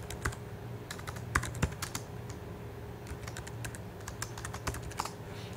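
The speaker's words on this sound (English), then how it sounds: "then we'll type in the annual gas cost" Steady typing on a computer keyboard during spreadsheet data entry, a run of quick close key clicks at an uneven rhythm over a faint hum, no talking.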